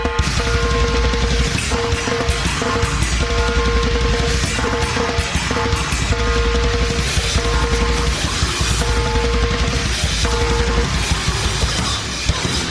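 Goregrind death metal song, a dense, loud wall of distorted guitars and bass with relentless blasting snare and drums, continuous throughout with no gaps.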